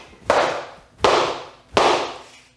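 Nerf blaster being fired three times in a row, each a sharp loud crack followed by a short fading hiss, evenly spaced about three-quarters of a second apart with no talk.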